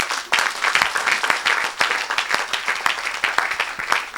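A church congregation claps and cheers loudly during a Saturday worship service, dense rapid applause throughout with some voices mixed in.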